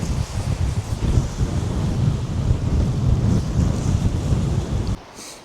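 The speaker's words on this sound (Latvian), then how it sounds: "Vējš gan normāli pūš." Wind blows hard across the north pier at Pāvilosta on the Baltic coast, a steady buffeting roar with gusty rumble on the microphone, cutting off abruptly near the end.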